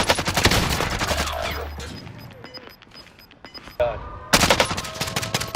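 Automatic gunfire in the shooter game Warzone with a CW MP5 loadout: loud, rapid bursts in close exchanges, a brief quieter gap with scattered shots, then another heavy burst.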